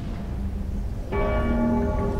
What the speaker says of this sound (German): die Glockenschläge, die man ab und zu hier hören kann